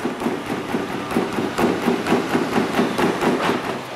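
A loose plastic front bumper on a car rattles in a rapid, steady series of knocks and clatters over a low running drone, close and fairly loud, without talk.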